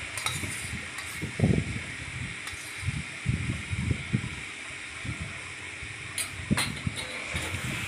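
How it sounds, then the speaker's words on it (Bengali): Mutton and potatoes sauté with spices in a pan for mutton kalia, a steady low sizzle broken by repeated scraping and stirring strokes, close up with no talking. "ভালো করে কষে নিলাম মশলাটার সঙ্গে, মটনটা দিয়ে, আলুটা দিয়ে।"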